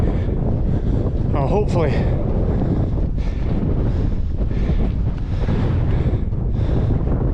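Strong mountain wind buffets the microphone on Beinn a' Ghlò, a constant loud low roar throughout, with a brief spoken remark partway through.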